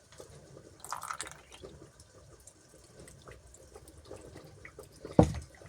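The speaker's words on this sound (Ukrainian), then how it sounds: "тепер сюди виливаємо наш кефір" Kefir is poured into a bowl over a beaten egg while a salad-style dish is made at home. The liquid pours quietly and trickles in soft bursts, with a sharper splash or clink near the end.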